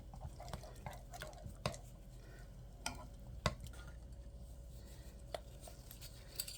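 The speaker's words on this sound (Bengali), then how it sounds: "এটা এখন ভালো করে মিক্স করে নেব।" A spoon stirs batter for small oil-free pitha in a bowl, giving soft, steady scraping and sloshing with a few sharper taps against the side, close and fairly quiet.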